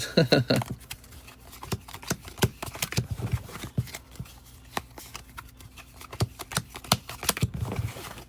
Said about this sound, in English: Sorry about all the shuffling.